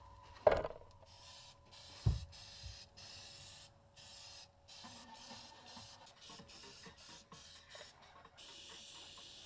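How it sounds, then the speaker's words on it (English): Rust inhibitor hisses from a spray can onto a rusty truck frame being prepped for welding, in several short, soft bursts with a couple of louder clunks near the start. "I'm going to spray this down with a little bit of this rust inhibitor"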